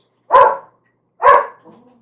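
A dog gives two sharp, loud barks about a second apart, followed by a short soft whine, heard close up in silence.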